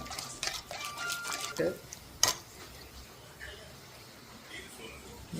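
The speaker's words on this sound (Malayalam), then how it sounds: "ശേഷം പിഴിഞ്ഞ് വെച്ചിരിക്കുന്ന തേങ്ങാപ്പാൽ ഒഴിക്കുക. മിക്സ് ചെയ്യുക." Squeezed coconut milk poured into a pan of chicken curry and stirred in, with soft liquid splashes, a spoon scraping and clinking against the pot, and a sharp metallic clank, fairly quiet overall.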